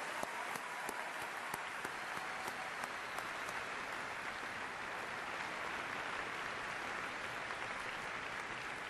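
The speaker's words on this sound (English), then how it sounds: "Let's have another round of applause for all of those receiving the doctoral degree." A large commencement crowd at a university graduation claps for doctoral degree recipients, a broad, continuous wash of many hands heard from a distance, steady throughout with no talking.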